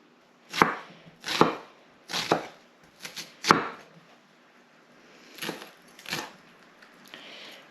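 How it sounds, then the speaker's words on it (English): A knife cuts through crispy tacos in a run of about eight crunchy chopping strikes, close and crisp, the first five firm and evenly spaced, the last few softer. "Just run your knife through it."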